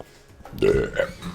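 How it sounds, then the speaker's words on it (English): A person at a livestream lets out a single short, close, loud burp, a brief guttural belch with no speech around it. "Oh, and then I burped."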